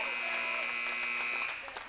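A steady, loud electronic buzzer sounds in a high school girls' basketball gym at the end of the third quarter, holding for over a second with crowd noise and voices underneath.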